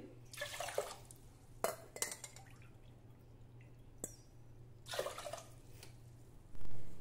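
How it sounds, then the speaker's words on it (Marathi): Water splashing and pouring in short bursts into a pot of rice and lentils for khichdi, with drips and clinks between, fairly quiet and near, no voices. "दुप्पट पाणी मी घालणार आहे, म्हणजे सुटसुटीत अशी खिचडी तयार होईल।"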